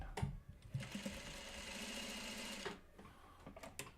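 A sewing machine stitches the last seam of a Jackknife quilt block in a steady, close whirring run of about two seconds, with short starts and stops on either side.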